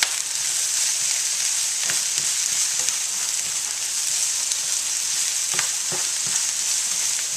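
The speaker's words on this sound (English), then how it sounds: "Alright, so we're letting those mushrooms cook." Mushrooms sizzle and fry in a pan for a vegan scramble, a steady close crackle with occasional stirring clatter throughout and no talking.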